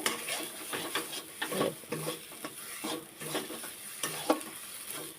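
Fish mash with pointed gourd frying in a mustard-oil wok, stirred with a utensil in short scraping strokes over a soft sizzle, with light clinks of metal against the pan.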